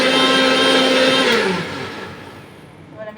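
Kitchen blender mixing a watermelon lassi with lemon, roaring loudly and steadily, then winding down and fading over the last couple of seconds, with a faint clink at the end.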